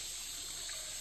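Water trickles and drips from the bank into a river at the Lubok Nitik campsite on Sungai Sebetan, Saratok, a steady close broadband splashing with no voices.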